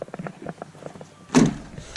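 A 4Runner's door clicking and rattling softly, then a single firm thunk as it shuts, in a quiet outdoor setting.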